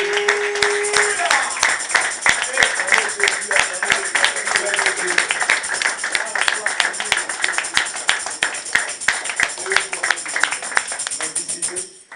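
Church congregation at a Christian mission service claps and cheers for Jesus, a sustained burst of many hands clapping in fast irregular rhythm alongside loud voices and shouts, trailing off at the end.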